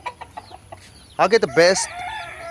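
Gamebird hens cluck in short close calls at a breeding pen, with someone speaking briefly between the sounds.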